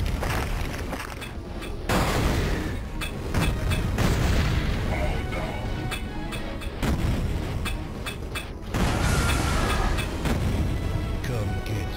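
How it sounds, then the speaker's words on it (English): Soul Cannon weapon in the first-person shooter Duke Forces fires repeatedly, heavy booming blasts in bursts over constant game noise. "Soul Cannon does sound pretty good here."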